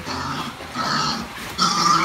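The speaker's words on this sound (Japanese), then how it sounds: "一頭豚が全然元気ないです。" A sick, listless farm pig grunts close by in three drawn-out, nasal grunts separated by short pauses, the last one the loudest.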